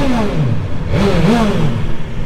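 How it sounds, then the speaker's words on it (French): A 2025 BMW S 1000 XR motorcycle roars close and loud through its exhaust line while being ridden, its engine note rising and falling steadily with shifting revs for a couple of seconds, with no voices. "je vais vous faire écouter le son de la ligne en roulant"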